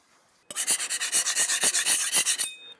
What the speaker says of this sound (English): I'm just going to use myself a nice sponge with a green scouring pad.